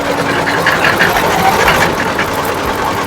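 An embroidery machine runs on the floor of a kurti factory, a loud, steady mechanical drone with a fast rattling texture that continues unbroken and fills the space.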